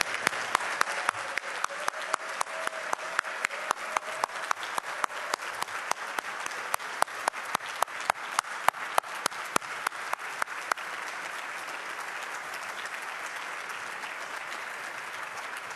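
Audience applause with scattered cheers honoring Mr. Hartman at a student reception, a dense, steady clapping crowd that holds throughout and thins slightly toward the end.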